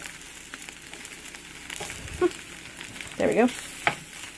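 Chilaquiles fry in a pan while a spatula turns them, making a soft sizzle with a couple of short scraping flips near the end and a brief spoken remark.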